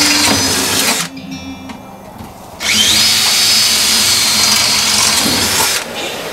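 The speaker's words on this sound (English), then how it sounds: "So we're gonna drill a bunch more holes." A power drill whines loudly while boring holes in a homemade maple sap vacuum filter, running in two long bursts separated by a quieter pause with a shop-vac style hum underneath.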